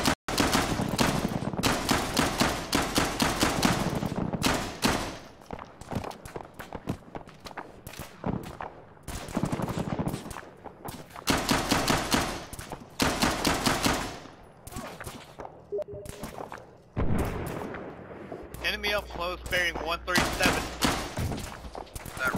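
Heavy gunfire in Arma on the Tanoa map during an invade-and-annex battle: loud, repeated automatic bursts and rattling volleys, with pauses and footsteps between them and someone talking over the fighting.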